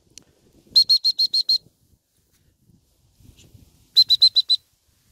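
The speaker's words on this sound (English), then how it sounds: "we haven't used this whistle for a good 9-10 months." A dog training whistle sounds two crisp bursts of about five rapid, high-pitched pips each, loud and close, with a gap between the bursts and faint rustling in the quiet.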